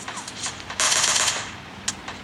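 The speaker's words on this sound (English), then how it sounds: "Gunshots." Rapid automatic gunfire in the battle royale game PUBG on the Miramar map; a dense burst of loud cracking shots with a few scattered single shots, heard alone without talk.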